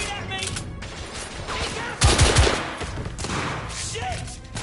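Gunfire in The Order 1886, bursts of rapid shots with a heavy cluster of loud thumping blasts midway, close and punchy, while a person talks intermittently over the fight.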